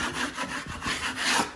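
Hardened drywall mud being scraped to shave off high spots, a close, dry rasping scrape in repeated back-and-forth strokes with no talking.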